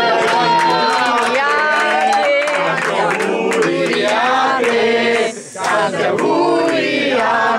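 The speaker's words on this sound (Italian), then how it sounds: "Bravi, un bel applauso." A crowd at a 50th birthday celebration in a small academy in Genoa lets out loud, sustained cheering and shouting, voices dominating with light clapping mixed underneath and a brief dip partway through.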